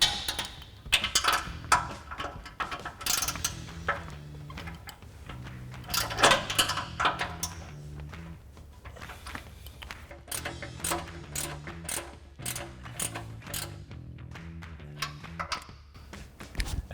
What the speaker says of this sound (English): you can get a ratcheting wrench in there with just enough room to tighten them down